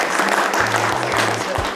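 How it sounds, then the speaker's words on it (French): Wedding guests applaud the couple with sustained, fairly loud clapping from a gathered crowd, with a faint voice and low hum underneath. "Mesdames, Messieurs, applaudissons-les de tout cœur."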